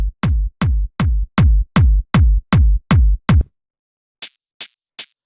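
Fat, heavily processed industrial techno kick drum hitting nine times in a steady four-on-the-floor pulse, loud and booming with deep low end, then three short high-passed clicks after a pause.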